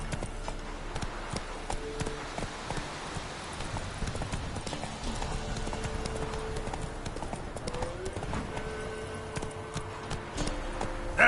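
Roach, Geralt's horse in The Witcher 3 video game, clip-clops along at a steady gait, hooves moderately loud over ambient game music and background sounds, with no talking.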